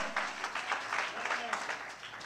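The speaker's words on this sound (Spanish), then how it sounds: "Dele más fuerte el aplauso al Señor." Church congregation applauding during an evangelistic service, a steady wash of clapping with rhythmic surges, heard at moderate distance and mixed with some voices.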